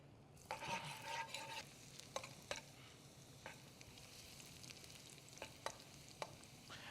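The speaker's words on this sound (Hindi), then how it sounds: "उसके अंदर हम गार्लिक को सौते करेंगे" Garlic sautés in a small amount of oil in a pan for garlic fried rice, giving a soft, quiet sizzle with repeated scraping stirs and occasional sharp clicks of the utensil.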